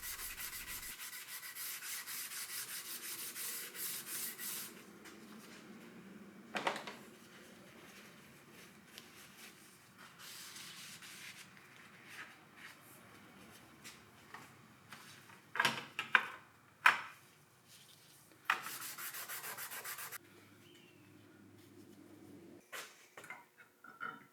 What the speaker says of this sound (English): Here I'm just taking some acetone and Scotch-Brite and cleaning